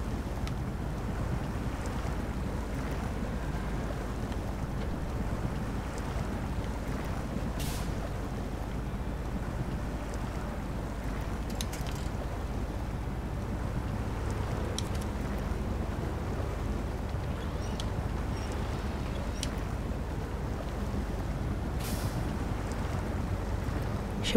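A vehicle drives through water in the SnowRunner video game, a constant rushing, sloshing wash with a low engine rumble and occasional sharp splashes, steady throughout.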